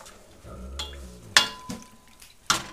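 A spoon stirs quinoa and water in a kitchen pot, with soft scraping and two sharp metallic clinks against the pot, close and fairly loud.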